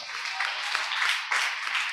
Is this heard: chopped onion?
no